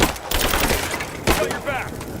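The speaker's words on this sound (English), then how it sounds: "Give me suppressing fire!" Suppressing gunfire in the video game Rise of the Tomb Raider: dense, continuous rattling bursts of shots with loud cracks, close and harsh, with a shouted voice over the firing.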